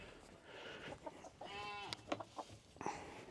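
Chickens cluck and squawk nearby in short irregular calls, one drawn-out cackle among quieter background noise.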